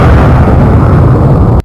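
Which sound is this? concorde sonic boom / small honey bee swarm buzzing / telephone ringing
concorde sonic boom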